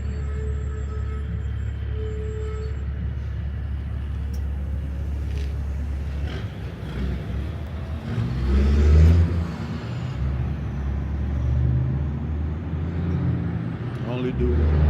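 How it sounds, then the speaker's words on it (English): Cars driving past on a city street, a steady traffic hum with an engine swelling nearer and louder midway, while a person talks over it. "Can y'all hear all the cars around me?"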